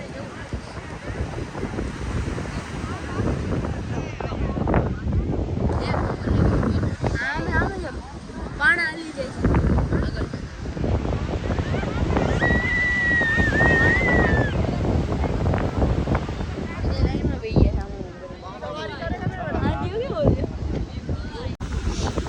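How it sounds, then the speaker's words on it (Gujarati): Sea waves surge and wash amid gusty wind buffeting the microphone, with people talking over the steady roar of the water on the Gir coast. "આમ જો દરિયાનો અવાજ કેટલો આવે છે"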